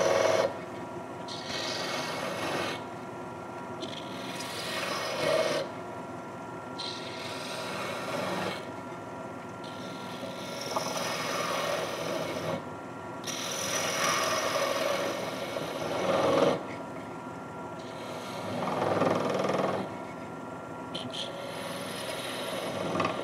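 Fine detail wood turning on a lathe with a small spindle tool ground from an Allen wrench, making a spinning top: a steady close rasping scrape with the lathe's hum beneath, rising in several louder bursts as the tool bites.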